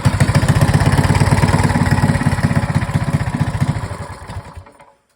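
Small engine idling with a steady, rapid chug after being started on choke, loud and close, then quickly dying away and cutting off near the end.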